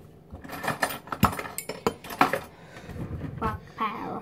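A fork stirs cake batter in a cup, giving quick clinks and scrapes against the sides in uneven bursts, close up, with faint voices in the background.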